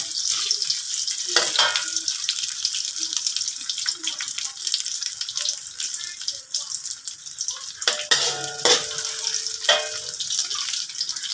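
Bean sprouts with tofu and fish strips are stir-fried in a pan, with a loud continuous sizzle, the scrape and clatter of stirring, and brief water sounds, while someone talks now and then.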